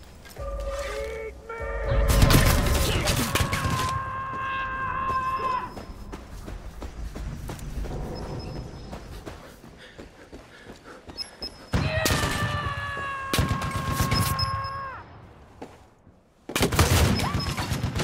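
Video game gunfire volley: heavy booming blasts in several loud clusters, each with a ringing tonal tail, separated by quieter rumbling gaps.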